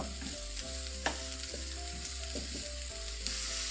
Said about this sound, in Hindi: अब इसमें हम ये कटे हुए प्याज डाल देंगे।